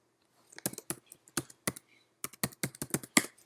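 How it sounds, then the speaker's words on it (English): Password typed on a computer keyboard: two quick runs of crisp, close key clicks with a short pause between, quiet and without talk. "Okay, so I'm going to type in CloudAdmin."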